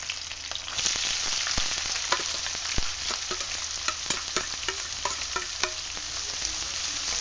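Green chillies and onions fry in a pan with a soft, steady crackle and frequent sharp spatula ticks and scrapes spread through the stirring, heard close and alone.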